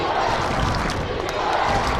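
Arena crowd at a men's college basketball game, MSU Billings against Rocky Mountain College, roaring loudly and steadily throughout, a dense sustained wall of cheering and noise.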